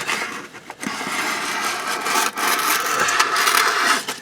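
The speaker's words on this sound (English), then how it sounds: "going to take this wet sandpaper and same as I did on the other side, and just kind of clean this a little bit without scratching the inner side" Wet sandpaper scrubbing a Ford F150 transmission part clean, a close, continuous gritty rubbing with brief pauses between strokes, fairly loud and without speech.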